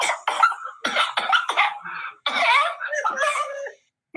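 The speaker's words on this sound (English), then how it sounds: "I'm coughing." A person coughs repeatedly in short, harsh bursts close to the microphone, several rapid coughs followed by a longer rough throaty stretch.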